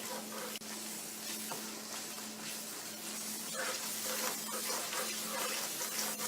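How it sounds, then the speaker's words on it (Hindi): Spiced masala with yogurt frying in oil in a pan for a chicken masala gravy, giving a steady, close sizzle with soft stirring scrapes throughout and no talking. "इनको इतनी देर भूनना है स्पाइस डाल के कि इनका ऑयल निकल आए मसाले का।"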